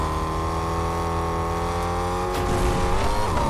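A car driving in the video game Fortnite, with a steady engine drone that rises into revving and a brief tire squeal near the end, loud and continuous with no talking.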